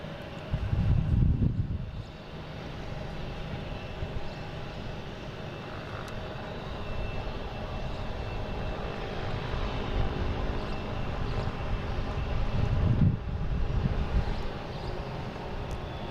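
An Alaska Airlines Boeing 737-900 jet at Boston Logan, on runway 22 left, gives a steady distant roar that swells briefly near the start and again toward the end, with no one talking.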